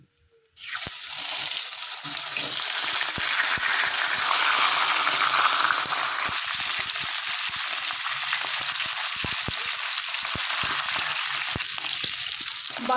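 The last pieces of rohu fish go into hot oil and fry for a Bengali fish curry, a sudden burst then a steady, loud, close sizzle with crackling pops throughout, no voices.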